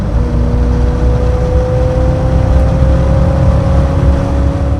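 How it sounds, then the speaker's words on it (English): A 1987 Chevrolet C10 Silverado pickup with an original TBI 350 V8 and an aftermarket single-in, dual-out Flowmaster-style muffler drones steadily while driving, giving a continuous, even exhaust hum with a faint whine on top. "It's a Flowmaster style muffler, so it sounds good."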